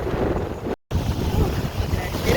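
Strong gusty wind at a beach in Mexico buffets the microphone with a constant rumbling roar, briefly cut by a short silent gap.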